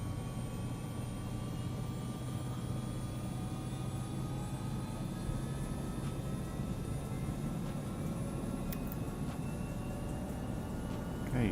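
A helicopter in flight sends a steady, continuous rotor and engine drone from inside the cabin, with constant low rumble and faint whine at an even level throughout.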